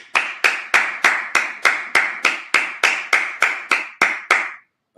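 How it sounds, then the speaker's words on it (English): A congregation at a Sabbath service claps in unison, a dozen or so loud, evenly spaced claps in a steady rhythm, each with a short room echo, stopping abruptly before a moment of silence. "Clap it up."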